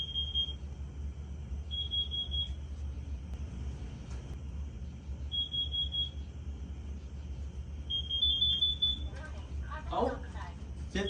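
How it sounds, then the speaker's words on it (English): Kidde Detect 30 CUAR carbon monoxide alarm chirping in short high-pitched bursts, about four separate beeps spread over several seconds, over a steady low rumble of room noise and faint voices. "we have another alarm. The other new one at the top left, the Kidde Detect 30 CUAR"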